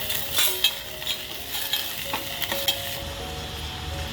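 Matki sprouts sizzle in a pan with mustard seeds and cumin while a spoon stirs them, giving soft scraping strokes and light clinks over a steady, quiet frying hiss.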